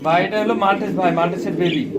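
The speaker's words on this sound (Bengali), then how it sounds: "ব্ল্যাক কালারের মাল্টেস কবুতর বেবি মার্শাল" Black baby Maltese pigeons coo in soft, rolling, repeated phrases while someone talks over them throughout.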